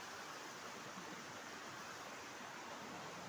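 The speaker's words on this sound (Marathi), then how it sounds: "इथूनही पाणी वाहतंय" Water flowing steadily in a Konkan river stream, a constant broadband rush with no pauses, fairly faint and close, with no talking.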